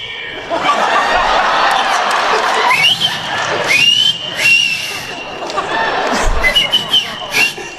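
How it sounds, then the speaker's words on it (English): Short rising whistles cut through a lively crowd hubbub, with chuckles and scattered chatter around them. "I could control a lot of things with whistling."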